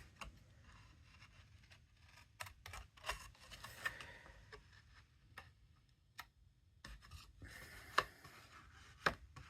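A badly cutting paper trimmer works through cardstock for a gatefold card. It makes quiet, sparse ticks and clicks with soft scraping in between, all at low volume in a hushed room.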